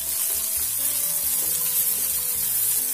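Green poha cooks in a pan with a constant, close sizzle and light stirring scrapes, heard under a faint tonal background melody with no one speaking.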